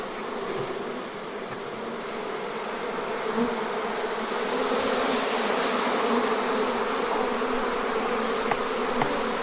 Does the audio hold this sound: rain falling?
no